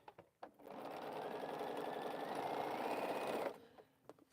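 A sewing machine runs steadily for about three seconds, stitching quilt pieces together, a close continuous mechanical whir that starts and stops abruptly between quiet handling noises.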